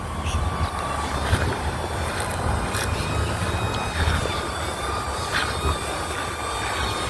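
A DJI Neo drone flies at a distance, its thin whine running steadily over a low rumbling background of wind and ambient noise.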